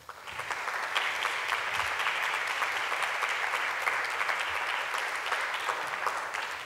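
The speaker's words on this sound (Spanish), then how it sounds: "ganador del premio Pulitzer, Forrest Gander, para quien pido un fuerte aplauso." An audience at a poetry book presentation applauds the visiting poet, a dense, sustained round of clapping that holds steady for several seconds before tapering slightly.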